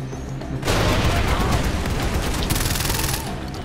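Gunfire in the PUBG battle royale video game: after a quiet half second comes a loud, dense fusillade of rapid automatic shots that continues to the end.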